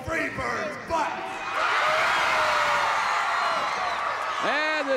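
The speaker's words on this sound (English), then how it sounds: "And this huge crowd enjoying David Von Erich as he taunts his adversaries." A large wrestling arena crowd cheering and roaring in a sustained wash of noise that swells after the first second and holds steady, with someone talking over it.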